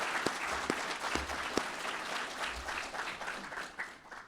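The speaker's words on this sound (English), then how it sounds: "how about a big round of applause for basic recruit classes 602 and" An audience applauds graduating basic recruit classes 602 and 603 at a police recruit graduation ceremony, a steady wash of many hands clapping at moderate distance with a few sharp claps near the start, tapering slightly toward the end.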